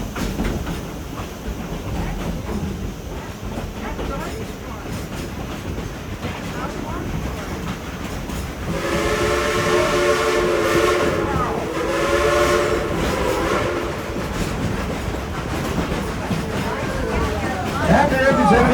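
Dollywood Express steam engine No. 70 rolls across a trestle at night, its steady rail rumble and clatter joined midway by a long, loud multi-tone steam whistle, with an announcer talking over the train.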